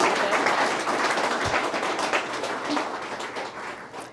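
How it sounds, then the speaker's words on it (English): Loud, dense applause from wedding guests at the start of a ceremony, a continuous roar of many hands clapping close by that holds steady throughout with no talking over it. "Can we have a round of applause for everybody,"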